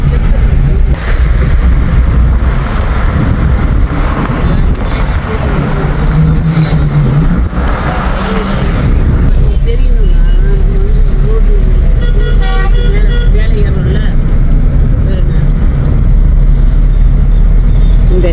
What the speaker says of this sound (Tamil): அதாவது டிராஃபிக் சவுண்டு, ஹாரன் சவுண்டு, அது இதுன்னு அப்படியே கேட்டுது.